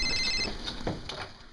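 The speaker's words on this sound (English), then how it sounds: "The phone's ringing." A telephone rings briefly in a hospital room, a short faint electronic trill at the start followed by quieter room noise.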